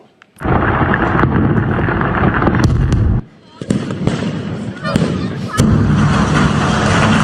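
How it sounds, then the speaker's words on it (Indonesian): Loud, continuous crackling and booming bursts as a fireworks shop in Hunan, China burns and explodes, dense and chaotic, briefly dropping off before erupting again. "Ledakan yang dahsyat menerbangkan mobil-mobil yang terparkir di dekat toko tersebut"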